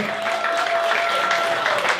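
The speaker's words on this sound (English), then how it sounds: "Big round of applause for Spence." Steady audience applause at a live parody show, a dense wash of clapping that holds at an even level throughout, with faint cheering mixed in.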